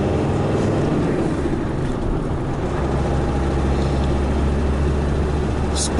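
A car engine drones steadily while the car is driven, a constant low rumble with road noise that holds the same loudness throughout.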